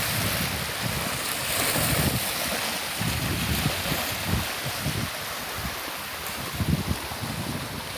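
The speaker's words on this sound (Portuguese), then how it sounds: "Olha o barulhinho do mar." Sea waves heard from a small boat, a continuous wash of surf and water with wind buffeting the microphone and low rumbling surges that come and go, no voices.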